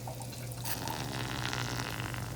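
Water poured steadily onto sadza dough in a cooking pot, a continuous close splashing trickle with a low steady hum underneath, no talk.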